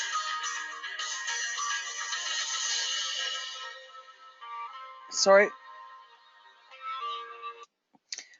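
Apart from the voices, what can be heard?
mobile phone ringing in a car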